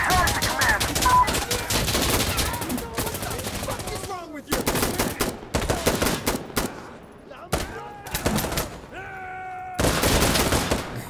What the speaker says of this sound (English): Just fucking gunned him down.